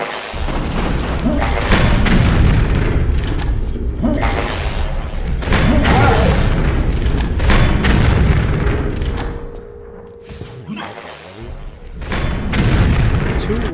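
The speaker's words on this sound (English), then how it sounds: "Two rockets to get rid of one of those." Rocket explosions in Tomb Raider III, South Pacific level: a series of loud booming thuds repeating across the stretch, with heavy low rumble, brief lulls between blasts and a quieter dip before a final burst.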